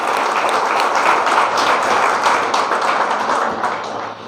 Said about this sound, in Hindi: एक बार ताली बजा के हवलदार मोहित का स्वागत करें